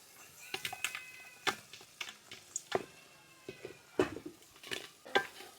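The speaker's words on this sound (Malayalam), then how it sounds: "ഇനി എല്ലാം കൂടി നന്നായിട്ടൊന്ന് മിക്സ് ചെയ്തെടുക്കാം" Utensil stirring fried sardines through a vinegar-laced pickle masala in a metal pan, giving irregular scraping clinks and knocks against the pan, close and fairly quiet with no talk.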